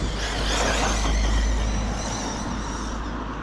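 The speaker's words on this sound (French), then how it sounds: "tu vois que la voiture n'a pas du tout respecté la zone 30" A car drives past on a street in a 30 zone, its steady, broad road rumble and tyre noise staying loud and close for a few seconds before easing off slightly.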